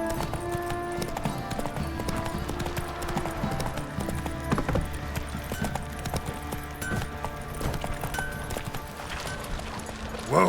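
Hooves of Geralt's horse Roach in The Witcher 3 clip-clop in a steady trotting rhythm on the ground, close and continuous over game ambience and music, with a brief louder snort or shuffle at the end.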